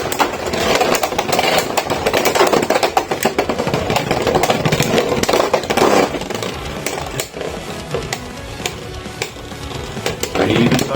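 Beyblade X spinning tops clashing in a plastic stadium, a steady whirring grind broken by rapid sharp clicks and rattling impacts, loud and continuous throughout.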